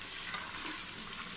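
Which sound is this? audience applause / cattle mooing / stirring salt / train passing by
stirring salt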